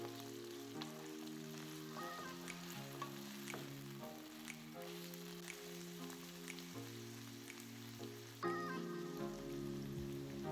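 Flaked, deboned saltfish frying and crackling steadily in a pan, a continuous close sizzle with light stirring scrapes, alone against quiet background music.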